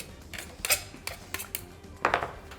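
A spatula scrapes and knocks against a bowl while mixing water into flour for pici pasta, a series of irregular close clinks and scrapes with quiet gaps between, no speech.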